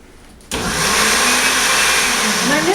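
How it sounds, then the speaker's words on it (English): Blender switching on at low speed to blend blueberries and banana, a sudden start after a quiet moment, then a loud, steady motor whir with churning that holds to the end. "I'm just going to blend it on low"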